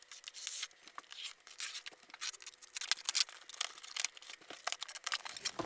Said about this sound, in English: be careful when cutting the box open not to slice anything inside